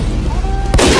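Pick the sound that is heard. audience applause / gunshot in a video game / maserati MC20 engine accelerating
gunshot in a video game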